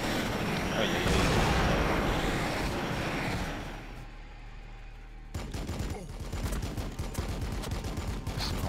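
A Warhammer 40K Battlesector unit opens fire in a dense, rattling burst of rapid gunshots and blasts that fades, followed after a short lull by a second stretch of sharp, repeated shots.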